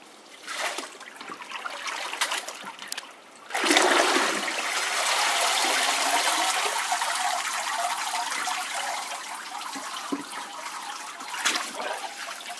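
Water draining from paper pulp through a mesh mould during a papier-mâché demonstration in Lecce: a few splashes at the start, then a sudden gush that settles into a steady trickle and stream with occasional drips.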